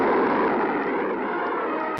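Launch of a NATO Honest John missile, heard as a steady, loud, rushing roar of rocket exhaust that holds for about two seconds before cutting off abruptly.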